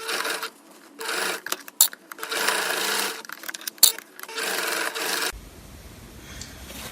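A sewing machine stitching a seam on a cosplay bodice, running in several close bursts of rapid whirring separated by brief pauses, then falling quiet to faint room noise near the end.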